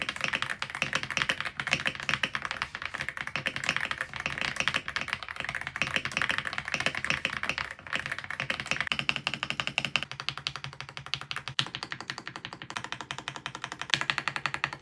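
Rapid continuous typing on an Aula F87 Pro mechanical keyboard with stock switches, dense close clacky keystrokes in a steady stream with occasional heavier key presses, no voices.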